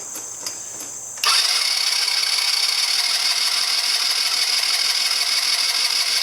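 A 2009 Genuine Buddy 125 scooter engine catches after a brief quiet moment and then runs loud and steady with throttle, a buzzing small-engine drone that continues to the end, close by with no speech.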